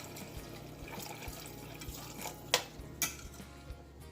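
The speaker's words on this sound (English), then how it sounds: "And 1 more cup of water." Water being poured from a cup into a pot of Korean seaweed soup (miyeok guk), a soft continuous trickle with a couple of brief splashes near the end, fairly faint and with no talking.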